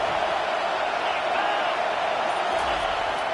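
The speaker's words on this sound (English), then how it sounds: "huge 4th down, and this crowd is rising to the occasion" A football stadium crowd on fourth down sends up a steady, dense roar of cheering and noise that holds level throughout.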